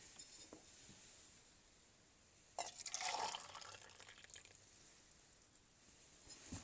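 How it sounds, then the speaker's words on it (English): Boiling water is poured into a metal can for a heat insulation experiment, a sudden splashing gush that settles into a quieter steady trickle, faint and close. "So I've got my boiling water and I'm ready to pour it into the can."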